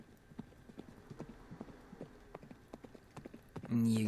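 Horse hooves clip-clopping steadily in a western frontier survival video game, a light rhythmic run of hoofbeats at moderate distance, ending in a louder burst of another game sound.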